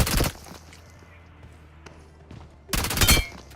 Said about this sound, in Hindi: भाई P90 भाई क्या ही गॉड गन है